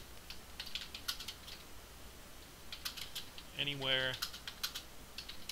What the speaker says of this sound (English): And just click where you need to type.